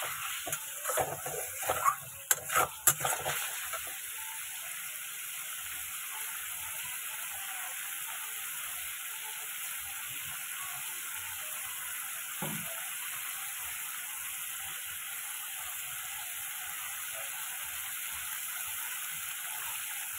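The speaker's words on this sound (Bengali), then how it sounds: "আমি একটু ভালো মতো কষাবো যাতে কোনো কাঁচা মশলার গন্ধ না বেরোয়" Spices fry in a pan, making a faint, steady sizzle that hisses quietly all the way through, with a few brief clicks and knocks near the start.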